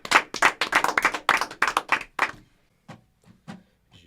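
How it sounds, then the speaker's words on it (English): A small audience at a live music radio show claps for a debut performer, a dozen or so close, distinct handclaps in a quick burst that thins out to a few scattered claps. "let's give him a round of applause"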